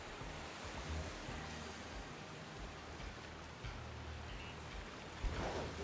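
Steady rushing waterfall noise in the video game Pokémon Purple, broadband and continuous, with a low rumbling layer and a brief louder splash near the end.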